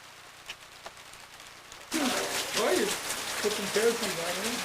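Rain falling in Chiapas, Mexico, a soft patter that suddenly swells into a steady close downpour, with voices talking over it.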